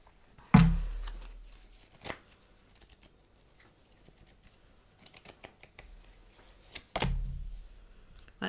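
Tarot cards are shuffled for a card reading in a few close, sharp riffles and taps separated by quiet pauses, with no voices.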